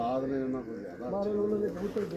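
Racing pigeons at a Punjab pigeon-flying championship in Pakpattan and Sahiwal give a steady, close, throaty cooing that runs through the whole moment, with people talking alongside.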